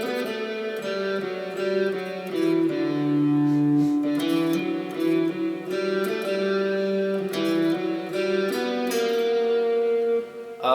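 Guitar plays the B section of a song in an easy arrangement, a steady run of melody notes over chords lasting the whole stretch, clear and close with no talking.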